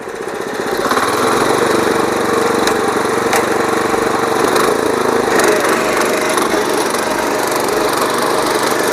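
A loud small power weeder engine with shock absorbers runs steadily and continuously with a rough, churning drone while tilling grassy soil, with no talking.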